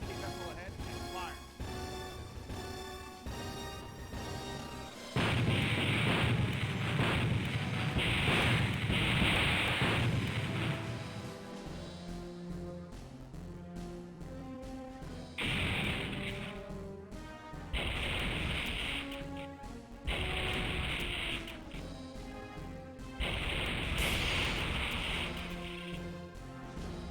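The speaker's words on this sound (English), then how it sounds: "All guns, set your sights on the enemy vessel ahead and fire." Ship guns fire on an enemy vessel in the space strategy game Infinite Space: loud, broad blasts come in repeated bursts, one long volley and then several shorter ones, over a steady game music bed.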